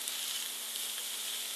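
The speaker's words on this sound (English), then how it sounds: "we're going to need to flip our tofu to get it crispy." Tofu sizzles and fries in a pan for a plant-based stir fry, a steady close hiss with faint crackle throughout and no talking.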